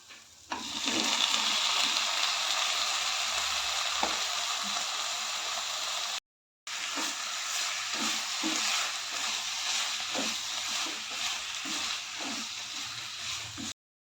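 Chicken pieces hit a hot pan already spiced with garam masala and sizzle in a steady, loud hiss with occasional stirring clatter, broken by one brief silence.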